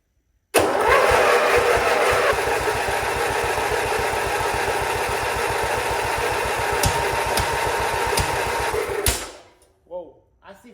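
A Wheel Horse 875 garden tractor engine being tested for fuel flow turns over and runs with a rapid, loud mechanical chugging for about nine seconds, then cuts out, followed by a short voice.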